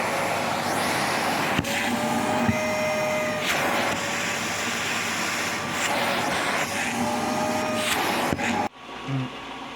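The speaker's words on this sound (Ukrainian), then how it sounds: "пробую включити ось такий пилосос" A vacuum cleaner powered by a small HECHT IG 3601 generator whines loudly and continuously with a steady motor hum and a few brief thumps, then shuts off abruptly near the end.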